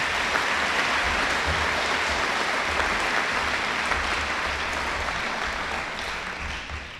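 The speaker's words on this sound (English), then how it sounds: "Let's give them a round of applause as they take their seats." An audience at a school awards presentation applauds the student captains as they take their seats, a full, steady wash of clapping that tapers slightly toward the end.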